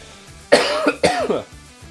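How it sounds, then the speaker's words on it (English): Two sharp coughs about half a second apart, close and loud, with a faint background hum and no talking. "All right, that's one. One cough."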